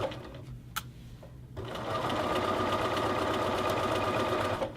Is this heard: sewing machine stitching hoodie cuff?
yes